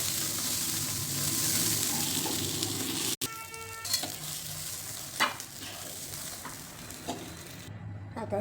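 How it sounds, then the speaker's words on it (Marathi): Green chilies roast in a pan with a continuous low sizzle, broken by a sharp click and intermittent stirring scrapes close by. "आता हिरवी मिरची भाजायला टाकायची. छान भाजायची."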